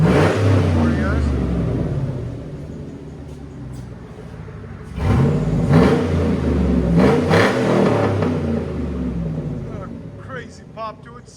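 A Hummer H2 with a 6.2L V8 and straight-pipe exhaust idles with a deep rumble, then swells into a loud rev before settling back, recorded close, with people talking over parts of it.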